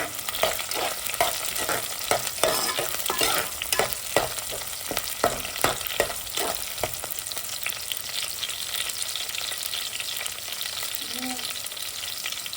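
Chillies frying in hot oil for fish curry, a loud continuous sizzle with rapid rhythmic stirring scrapes early on that settle into steady crackling, close up with no talk.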